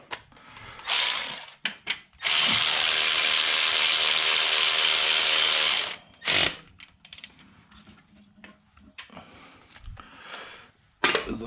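A ratchet works on bolts during a serpentine belt replacement on a Jeep Wrangler JKU 3.6, a loud close ratcheting buzz lasting several seconds between scattered clicks and clanks of tools.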